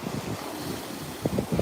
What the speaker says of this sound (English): We got a lot of wind coming.